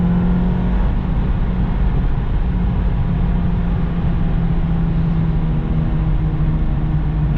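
A Honda-built Acura RSX Type S with a K20 engine and lightweight flywheel drones loudly and steadily from up close, engine note holding high and even throughout with no voices.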